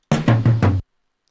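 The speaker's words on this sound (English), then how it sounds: "we actually have a drum fill. It sounds like this." A quick drum fill of four punchy hits in even succession, each with a low tonal thump and bright noisy top, ending abruptly into silence.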